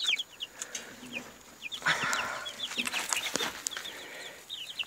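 Chickens on a small homestead cluck and chirp softly at close range, with bursts of higher peeping and rustling throughout.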